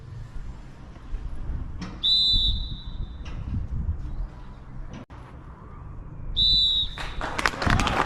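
At a Shildon football club match against Kendal Town, the referee blows two clear, piercing whistle blasts several seconds apart, marking the start and end of a minute's silence, over a low murmur of outdoor crowd noise.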